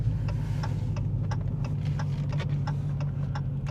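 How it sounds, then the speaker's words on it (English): Turn signal of a 2019 Dodge Challenger Hellcat clicks in a steady, even rhythm inside the cabin, about two ticks per second over the low rumble of the V8. "As you can hear the turn signals there,"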